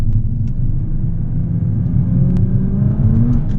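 A 2009 Nissan GT-R R35 engine revs in manual mode, a loud, steady low rumble that swells slightly as it climbs, heard close up from inside the car with no talking.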